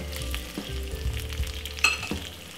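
Boiled Jamaican dumplings fry in hot oil with a constant crackling sizzle, punctuated by scraping and knocking of stirring, close and without talk.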